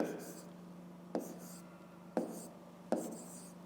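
A pen writes by hand on paper at close range, a soft scratching broken by three sharp taps as strokes land, heard faintly beneath a steady hum.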